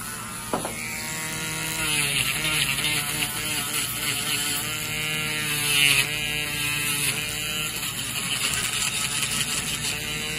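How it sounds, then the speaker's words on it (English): A Dremel rotary tool grinding down a thick fungal toenail in a podiatry office, with a continuous high motor whine and a steady buzzing grind that shifts in pitch as pressure changes, close and without talking. "Now we'll get the Dremel and then get you cleaned up"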